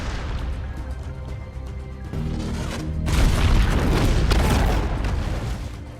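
A bomb carried on a character's body explodes in a film, a dull booming blast that erupts midway and leaves a loud, rumbling, crackling wash after it.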